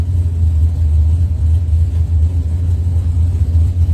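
Idling V8 of Ty McNeil's Silver Bullet Monte Carlo doorslammer drag car at a test-and-tune session, a loud, steady low rumble that holds constant throughout with no revving.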